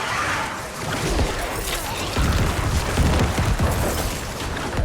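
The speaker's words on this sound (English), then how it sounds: "I got so many sick explosions going off" Explosions go off in the action role-playing game Diablo IV, a dense, unbroken roar of booms and crackling blasts, loud and without pause, with no talk over them.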